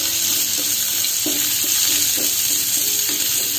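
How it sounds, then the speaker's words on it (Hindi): Sliced onion frying in hot oil with asafoetida and cumin gives a steady, close sizzle with no talk over it and a few soft stirring clinks. "1 मीडियम साइज का प्याज जिसे इस तरीके से बस पतला पतला काट लिया है वो डाल देंगे"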